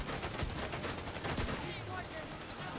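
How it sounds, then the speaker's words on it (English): Gunfire in The Division 2, a sustained volley of rapid shots with a few heavier bangs, loud and continuous throughout. "It's really hard to land those shots when you got like 5 guys shooting at your shield."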